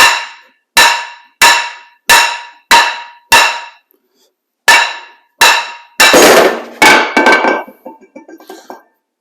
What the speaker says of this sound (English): you will have to, beat on it a little bit to get it to come loose